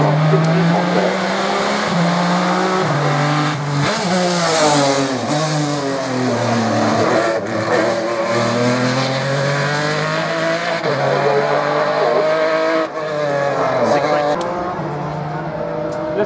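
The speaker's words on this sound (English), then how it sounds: "so lovely 6-cylinder note on there" A six-cylinder race car in Valvoline ICS livery at an autocross event, its engine note loud and continuous, rising and falling as it revs through gears, with a commentator talking over it throughout.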